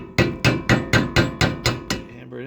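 A valve guide is driven into a Briggs & Stratton cylinder head from an Ariens snowblower with eight evenly spaced, sharp metal hammer blows, close and loud, and a short ringing pause after the last strike.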